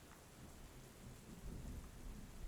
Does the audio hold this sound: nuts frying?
no